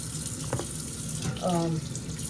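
Water runs from a sink hose during a pet's bath, a steady broadband rush, with a faint voice briefly heard over it.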